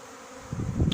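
A honeybee swarm hums steadily as it is gathered into a cardboard box at Coubert, a low continuous buzz that grows louder and fuller in the last half second.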